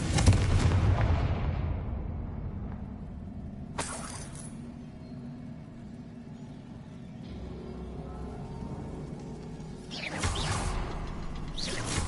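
A Confringo spell explodes in the video game Hogwarts Legacy: a loud burst that fades, a sharp crack near four seconds, and more blasts toward the end, with magical rumbling in between.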